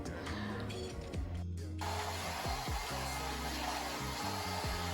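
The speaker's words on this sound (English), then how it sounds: "I like to give a little quick blow dry just to kind of loosen up the hair a little bit." A hair dryer blows steadily on a human-hair HD lace wig to loosen the strands, a constant whooshing roar with shifting pitch as the airflow moves, briefly cutting out near the middle while faint talk sits underneath.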